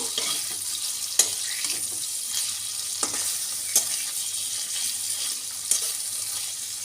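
Hilsa fish frying in oil in a pan, giving a steady bright sizzle with a few sharp spatter pops and occasional stirring knocks, close and alone without talk.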